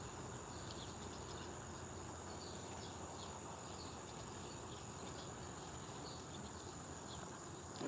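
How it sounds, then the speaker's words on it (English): Agitated honey bees swarm and buzz at an open hive during honey extraction, giving a dense, steady insect drone that holds at an even level throughout, with no talking. "Getting a little too close for comfort now with these bees. They're all in the corner of the hive"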